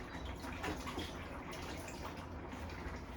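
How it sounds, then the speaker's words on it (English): Hands are washed under a running kitchen tap, a steady close splashing stream of water with no voices. "Let's wash my hands."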